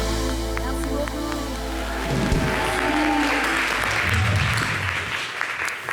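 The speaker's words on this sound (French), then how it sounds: "Merci d'applaudir." A studio audience at a televised variety show applauds over the tail of a music track, with steady, dense clapping that stays even in level and swells slightly midway.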